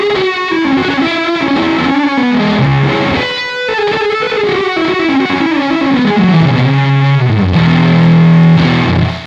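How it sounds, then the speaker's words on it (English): A homemade delay pedal set to full modulation pours out a dense wash of distorted, warbling repeats whose pitch bends and slides downward, loud and continuous with no voices. "If I put it on full modulation, it's way more extreme."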